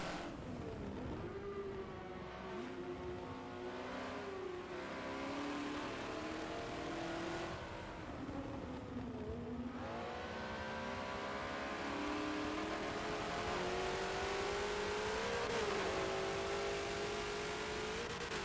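Race cars in a Forza video game scream down the straightaway at Sebring International Raceway, layered whining engines rising and falling in pitch as they accelerate and pass, loud and continuous for the whole stretch without talk.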